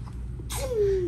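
A single sudden sneeze bursts out at close range, followed by a drawn-out, falling voiced tail.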